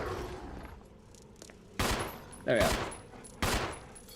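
Video game gunshots ring out as three sharp, loud bursts spaced about a second apart, with a few quiet words spoken in between.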